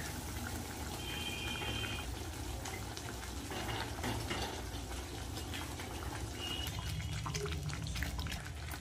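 Egg curry gravy boiling in a pan, a steady low bubbling and simmering hiss that runs throughout at a soft, even level.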